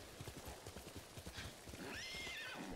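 Steady clip-clop of hooves at a quick gallop in Ghost of Tsushima, close and rhythmic, then a horse whinnies loudly near the end.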